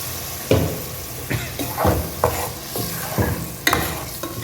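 Repeated stirring scrapes and splashy sizzles as tomato puree hits a hot pan with onion and garlic for fish curry, several bursts of wet frying sound at close range with no talking.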